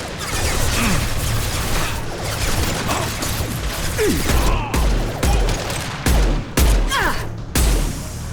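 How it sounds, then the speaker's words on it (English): Sustained bursts of gunfire from a Mass Effect 2 firefight, loud and continuous with rapid repeated shots, clanking mechanical impacts and a few heavier crashes layered throughout. "Here, enemy down! Open fire!"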